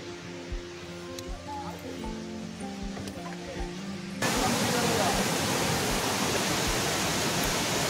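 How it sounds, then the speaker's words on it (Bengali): Monsoon water tumbling down a hillside at Netarhat, heard first as a moderate rushing wash and then, after about four seconds, as a sudden much louder, dense, close roar of falling water. "এই জলটাই উপর থেকে পড়ে আস্তে আস্তে ক্রমশ নিচে চলে যাচ্ছে"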